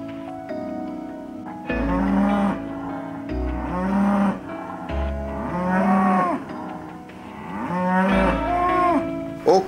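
Beef cattle of an English breed, kept outdoors in a green park near Almelo, low out repeatedly: several long, loud, near moos in turn, with short pauses between calls and a faint mechanical rattle in the background.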